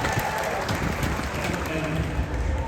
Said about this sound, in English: thank you for such an applause